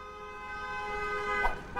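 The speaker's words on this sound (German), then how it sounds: "warum hupen die denn draußen immer so übertrieben?" Car horns honk outside in the cooking video game Cooking Simulator: a sustained, tonal horn blare that swells slightly near the end, heard alone without speech.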